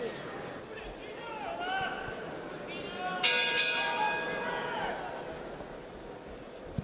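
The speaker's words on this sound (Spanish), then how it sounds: "Sonó la campana." A boxing ring bell rings out a couple of bright, ringing strikes that decay slowly over a loud arena crowd during a professional fight.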